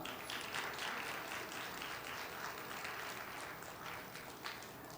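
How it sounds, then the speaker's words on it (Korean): Audience applause welcoming a panel of HR managers at a public-institution job fair talk concert, a dense, steady wash of clapping across the whole stretch, moderately loud and even. "기관별 인사 담당자분들 앞으로 모실 때 큰 박수 부탁드립니다."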